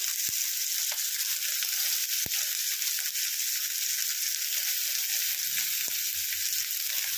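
Two large onions fry in hot oil for mutton keema, giving a faint, steady sizzle with occasional sharp ticks and light knocks of a utensil, heard alone without any talking.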